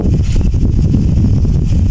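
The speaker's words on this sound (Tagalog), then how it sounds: "Wow, malakas ng hangin mga idol." Strong, cold wind in Mindanao buffets the microphone in a steady, low roaring rush that fills the whole moment without a break.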